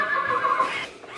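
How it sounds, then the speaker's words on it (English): A child's toy horse gives a loud, continuous electronic neigh and whinny lasting about a second, heard up close indoors in a home kitchen with no talking over it. "Take your horse over there, Mia."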